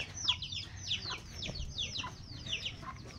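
Chickens on a rural farm cluck and chirp in quick repeated bursts, fairly close, over a faint low background hum.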